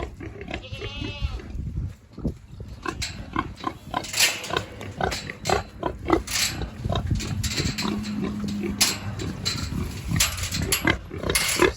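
A farm pig grunts and squeals near goats in a barnyard, with short, irregular vocal bursts amid shuffling and movement, while a person talks nearby.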